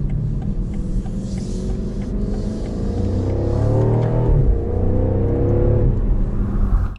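A BMW Alpina B5 Biturbo Touring engine hums steadily from inside the cabin, pitch rising as it accelerates through gears, with a shift and renewed climb partway through.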